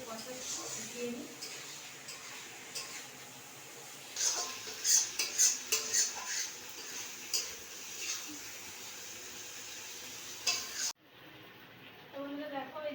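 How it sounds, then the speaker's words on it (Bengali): A spoon clinks and scrapes inside a pot while chicken is sautéed for biryani, giving a series of sharp metallic taps and stirs over a faint low sizzle, with a brief drop to quiet near the end. "চিকেনটা আমি ভালো করে কষিয়ে নিই।"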